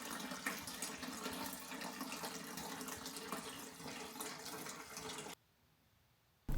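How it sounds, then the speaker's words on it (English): Cold tap water pours steadily into the tank of a George wet and dry vac, a loud, even rushing splash that cuts off abruptly near the end, leaving near silence. "Now I'm just going to fill only half a tank with cold water"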